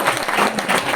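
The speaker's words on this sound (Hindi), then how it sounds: "तालियां बजाइए इनके लिए।" An audience applauds in a brief, dense burst of clapping that is loud and steady for its whole second.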